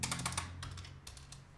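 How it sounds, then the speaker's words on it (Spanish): Quick, fairly quiet keystrokes on a Dell KM3322W membrane keyboard, a rapid run of light clicks, a pause, then a few more taps over low background hum. "me molesta un poquito el ruido de la barra espaciadora"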